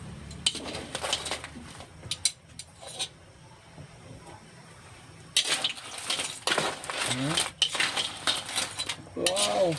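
Crab cooking in coconut milk being stirred in a pot, with intermittent clinks and scrapes of a utensil against the cookware in bursts, under occasional talking.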